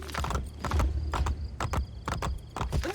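Horse hooves clip-clop in a quick, regular rhythm at a trot in the video game Assassin's Creed: Brotherhood, crisp and close, with no talking.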